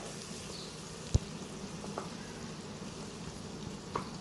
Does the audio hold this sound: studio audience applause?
no